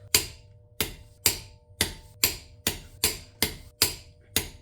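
Lug nuts on a 2011-2019 Ford Explorer being torqued with a wrench to 100 foot-pounds, giving ten sharp, evenly spaced metallic clicks about half a second apart, heard alone and fairly close.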